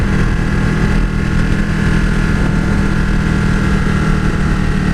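A 2015 Ducati 1299S motorcycle engine hums steadily while riding, a loud, continuous, smooth drone with wind rush and no breaks throughout.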